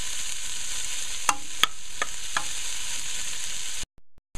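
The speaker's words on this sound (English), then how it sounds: "Now I'm going to lock it down and let it fry up a little." Long beans with shrimps stir-frying in a pan, a constant loud sizzle broken by a few sharp spatula scrapes and clicks, then the sizzle cuts out abruptly near the end as the lid goes on.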